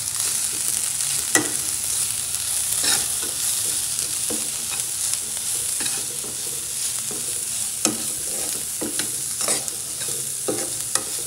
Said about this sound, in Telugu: ఉప్పు, కారం, నేను పెప్పర్ కూడా వేస్తాను, పసుపు, జీలకర్ర పొడి, ధనియాల పొడి అవన్నీ వేసి బాగా వేయించుకోవాలి